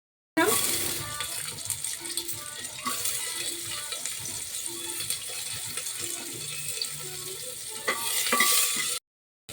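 Garlic drops into a small amount of hot oil and sizzles loudly and continuously, close up, with stirring scrapes and a brief clatter toward the end; no voice is heard.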